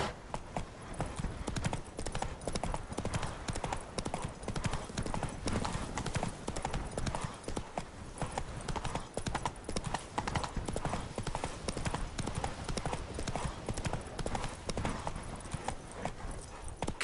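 Hooves of Roach, a horse in The Witcher 3 game, clopping in a fast, continuous gallop rhythm at moderate volume, steady beats throughout with a faint snort or whinny in places.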